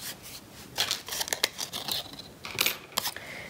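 Scissors snip through cardstock paper for a snow bunny greeting card, a series of close, crisp cuts in an uneven rhythm with light rustling between them.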